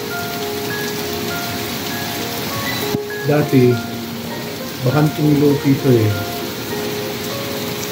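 Heavy rain pours steadily in Saudi Arabia, a constant loud wash of falling drops throughout, while someone speaks briefly in two short bursts over it.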